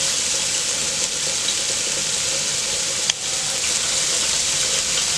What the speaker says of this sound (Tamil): இது கொஞ்ச நேரம் ஃப்ரை ஆகட்டும்.